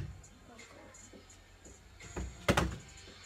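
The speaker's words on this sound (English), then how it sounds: "Just shut my bedroom door." A bedroom door pushed shut, ending in a single sharp thud and rattle near the end, preceded by quieter shuffling and handling noises, with faint background talk earlier.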